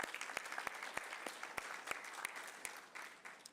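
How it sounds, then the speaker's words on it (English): City council meeting audience applauding young public speakers: a sparse, fairly quiet round of scattered claps with sharp distinct hand strikes, fading slightly toward the end. "they deserve a round of applause for that"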